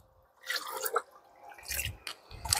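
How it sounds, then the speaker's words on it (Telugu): Liquid plant fertilizer is poured from one container into another and diluted with water. Close, splashing pours come in three short bursts separated by brief pauses. "దీనిలోవి కూడా కొన్ని తీసి దీనిలో పోసి ఇంకా డైల్యూట్ చేస్తాను"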